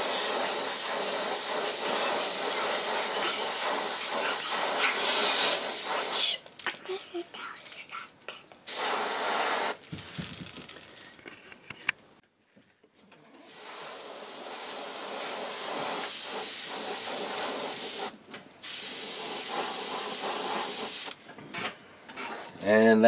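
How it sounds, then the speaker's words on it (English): An airbrush sprays moss green detail paint onto a brown trout fishing lure in short bursts, a close, steady hiss cutting on and off several times with brief silences between. "we got some detail moss green in the airbrush, and we're just going to lightly spray this green on this thing."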